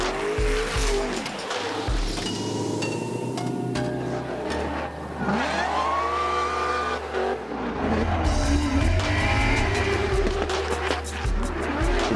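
Formula Drift Pro2 car drifting at the Orlando round, engine roaring loud and close with rising and falling revs and sustained tire squeal through the whole stretch.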